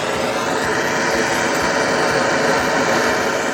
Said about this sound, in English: I always fire up my barbecues with this torch